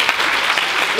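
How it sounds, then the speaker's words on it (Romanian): A brief burst of dense applause from a crowd watching a kendama battle, loud and close, steady for the whole moment with no voices on top. "Auzi, mama, mă aplaude!"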